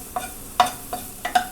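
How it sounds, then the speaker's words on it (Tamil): Sliced onions sauté lightly in a pan for Indian-style masala pasta, with a soft steady sizzle broken by five quick stirring scrapes, moderately quiet and close. "இப்போ லைட்டாக வதங்கட்டும் வெங்காயம்."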